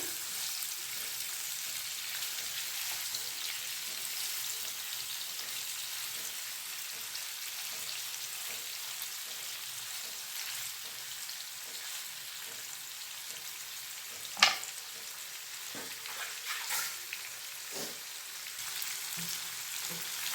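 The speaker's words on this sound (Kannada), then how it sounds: "ಸ್ವಲ್ಪ ಪನ್ನೀರ್ದು ಕಲರ್ ಚೇಂಜ್ ಆಗೋ ತನಕ ಎಣ್ಣೆನಲ್ಲಿ ಈ ರೀತಿ ಫ್ರೈ ಮಾಡ್ಕೊಂಡ್ರೇನ" Paneer cubes frying in oil in a pan give a steady, even sizzle that runs throughout with no voice. A single sharp click cuts through near the middle, and a few faint stirring scrapes follow.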